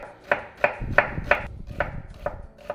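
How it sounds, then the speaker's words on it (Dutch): Knife chopping an onion on a cutting board, about eight sharp evenly spaced chops, close and fairly loud, with soft rustling underneath. "De ui, die gaan we snipperen."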